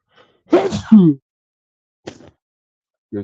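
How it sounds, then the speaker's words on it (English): A close, forceful sneeze with a sharp intake and burst, followed after a pause by a smaller second sneeze-like puff, in otherwise quiet surroundings. "Sneeze, sneeze."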